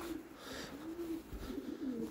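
A pigeon coos in soft, low repeated phrases close by, with a faint thump partway through and no voices over it.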